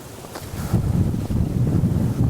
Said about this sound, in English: Wind is just ridiculous right now.